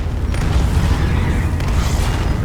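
Deep, continuous rumbling booms with crackling bursts, a dense wall of loud explosions and chaotic noise throughout, in the video game Relics of Hyrule at Ganon's Tower.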